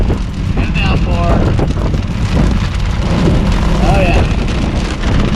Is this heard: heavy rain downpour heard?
yes